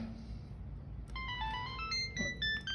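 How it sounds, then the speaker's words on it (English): A phone handset dials back a missed caller, giving a quiet electronic ringing tone of stepped melodic beeps that begins about a second in, over faint background hiss. "I can press the call button here if you like, and it calls the person back."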